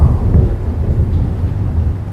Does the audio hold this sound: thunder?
yes